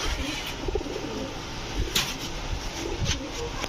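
Giribaj high flyer pigeons kept in pairs give soft, low cooing close by, blended into a steady background hum.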